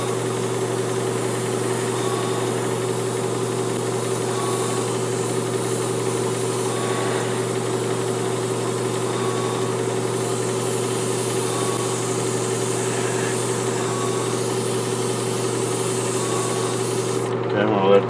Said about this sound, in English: Coming out of the airbrush really nice at, like I said, about 25 PSI.